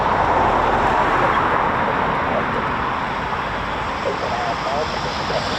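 An RAF Eurofighter Typhoon on final approach produces a steady, rushing jet roar against a wide background hiss, fairly loud and unbroken from start to finish.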